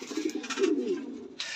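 Lahori pigeons, including black Lahoris, give a soft, low, throaty coo that swells in the middle of the moment, heard close and alone with faint rustling around it.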